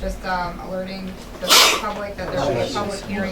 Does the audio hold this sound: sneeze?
yes